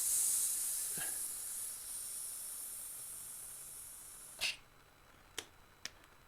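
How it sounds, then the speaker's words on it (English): Air hisses steadily out of a compressor tank as it depressurizes, a long high rushing sound that fades gradually, followed by a few short sharp clicks or pops near the end. "Compressor tank depressurization complete."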